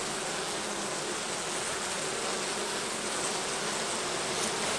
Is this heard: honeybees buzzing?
yes